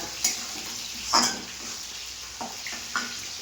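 Chopped onion sizzles in hot oil in a pan for an Odia black fish curry, a steady soft frying hiss broken by a few sharp clinks of stirring, with no talking.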